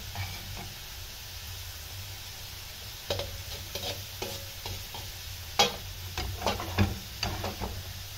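Five prawns cooking in a hot pan give a faint, steady sizzle, broken by scattered clacks and scrapes of stirring that grow busier toward the end.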